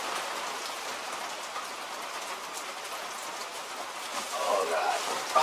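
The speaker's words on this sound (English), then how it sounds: "Oh, raining." Rain patters steadily on an umbrella at a cold, cloud-covered Appalachian Trail campsite, a dense continuous hiss close by that swells slightly near the end.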